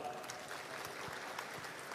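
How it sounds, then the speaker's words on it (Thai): Applause welcoming guests at the opening ceremony of a fair in 2024, quiet, distant clapping from a crowd, with a few sharper claps standing out over a steady murmur. "ขอเสียงปรบมือต้อนรับนะครับ"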